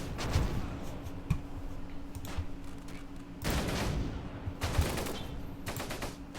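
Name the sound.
mortar rounds and gunfire in Close Combat video game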